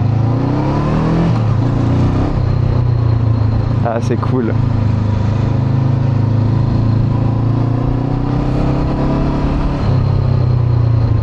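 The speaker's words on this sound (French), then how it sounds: "ce bruit de bicylindre, c'est très très cool" A 2021 Honda CB500X twin-cylinder motorcycle engine rumbles at idle and gives a brief rev partway through, while someone speaks briefly over the throaty, loping, popping exhaust.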